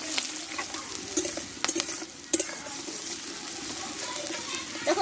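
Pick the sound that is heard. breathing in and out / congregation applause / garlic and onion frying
garlic and onion frying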